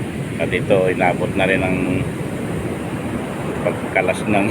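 Waves and wind batter a typhoon-hit beach resort at Barangay Pundakit, a constant broad rushing roar, while someone talks over it throughout.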